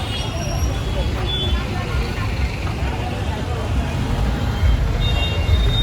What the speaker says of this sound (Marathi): ओके नुसते ट्रॅफिक लागले कारण आता सगळी मशाची घरी जायला निघल्या